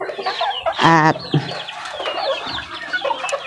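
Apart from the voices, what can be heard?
hens clucking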